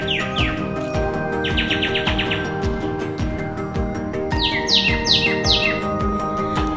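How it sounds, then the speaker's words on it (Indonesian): Several birds chirp and call back and forth in a pine forest near a parking area in the early morning at Kelimutu, repeated bright trills and tweets overlapping steadily and fairly close, with no talk. "Terdengar kicauan burung saling bersahutan."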